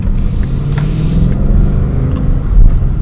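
A car drives slowly up to a stop sign on a residential street, giving a steady low engine and road rumble that fills the clip with no distinct events.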